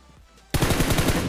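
Rapid automatic gunfire in the PUBG Mobile video game bursts in suddenly after a half-second of quiet, a loud, dense stream of close shots with no talking.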